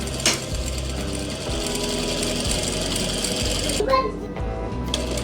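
A sewing machine stitches a frock in a steady, continuous mechanical whir that pauses briefly near the end, then runs again.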